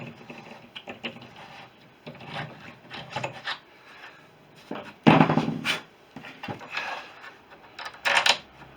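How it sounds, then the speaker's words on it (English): A reamer grinds resin out of a bolt hole in a Fisher Youngster V wing lower front spar, producing short, uneven rasping and scraping bursts close up, separated by brief pauses. "we just need to ream out that little bit of resin out of there"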